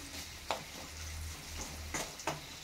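Tempering for ridge gourd peel chutney fries in a pan, a soft steady sizzle broken by a few sharp stirring scrapes, heard close and alone.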